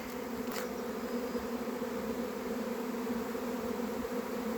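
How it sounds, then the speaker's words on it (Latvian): A swarm of honeybees hums around a hive in a steady, dense drone, close and continuous, with a single bee zipping past near the start. "Un te vēl šitās bites ir."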